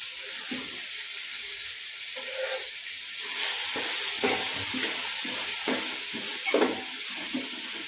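Tomato pieces sizzle loudly in a pan while being stirred, with repeated scraping strokes in an uneven rhythm over a constant hiss and no speech.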